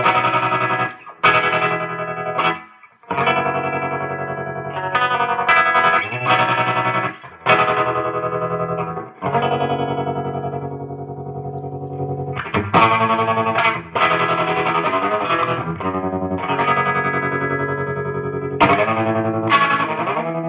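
Electric guitar run through a Lovepedal Baby Tremolo pedal on the square wave setting, cranked up so sustained chords chop on and off in abrupt, rhythmic pulses, loud and close with gaps between strums.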